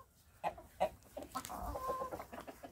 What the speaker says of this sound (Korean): 요거 지금 보이시는 건 백봉이랑 청개닭.